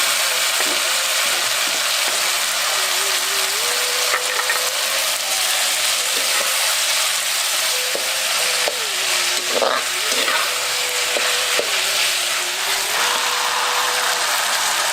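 Onions and tomatoes sauté in a pan for a traditional sundakkai vatha kuzhambu, giving a steady, loud oil sizzle throughout, with occasional light scraping and clinks from stirring and no talk.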